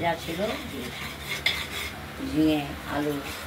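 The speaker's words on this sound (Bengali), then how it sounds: "আমরা মুগ ডালটা ভেজে নিচ্ছি, হালকা ভেজে নেব" Mung dal is lightly fried in a pan, heard as gentle clinks and scrapes of a spoon against the metal with faint background sizzle and no voices.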